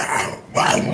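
A voice imitating an angry dog's growl in two rough, throaty bursts with a brief gap between, close and loud.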